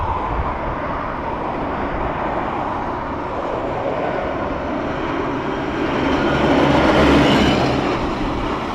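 A Ryanair jet arriving at Dublin Airport from Toulouse gives a distant, broad roar that swells louder for a few seconds near the end, then eases off.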